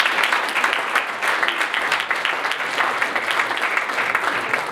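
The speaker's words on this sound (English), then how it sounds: "Can I have a big round of applause," A crowd applauding after a career talk by a champion powerlifter, a sustained, thick roll of clapping at steady volume from start to finish, no talking over it.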